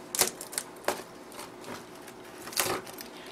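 A knife or cutter crunches through a crispy thin-crust chicken bacon pizza in a pan, giving a few short, crackly bursts spaced about a second apart, close and fairly quiet, with no talking.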